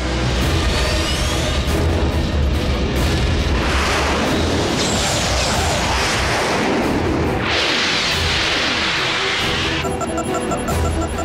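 Missile attack explosions in a Transformers Prime cartoon, a continuous loud barrage of booms and blasts layered over a dense roaring rumble with no talking.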